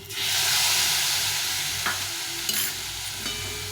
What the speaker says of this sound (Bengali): দিয়ে একটু ভালো করে ভালো করে কষিয়ে নেবো